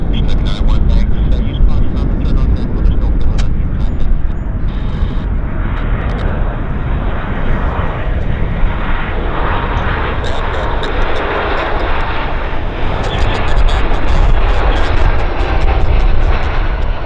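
A Porter Airlines plane takes off at Vancouver airport, its engines roaring loud and steady throughout, with a voice talking over the noise.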